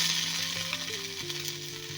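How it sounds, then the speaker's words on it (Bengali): Cumin and coriander paste sizzles in a pan with lightly fried onions, a steady close-up frying hiss under a faint background tone. "হালকা পেঁয়াজটা ভাজা ভাজা হয়ে গেছে এবার আমি এখানে দিয়ে দেবো জিরে ধনে বাটা"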